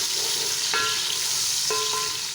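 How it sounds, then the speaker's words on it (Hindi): Large onion frying in oil for a daleem korma, a dense continuous sizzle close by with two sharp clanks of a spoon against the pan. "बड़े साइज़ का एक लिया प्याज, वो डाल देते हैं। इसमें फ्राई करते हैं"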